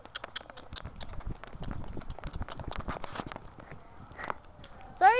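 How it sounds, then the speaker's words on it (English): A pony lopes and bucks, its hoofbeats landing in a quick, uneven clip-clop rhythm at moderate distance, with faint voices in the background and a sharp louder burst at the very end. "I'm loping on her horse and she's kind of bucking."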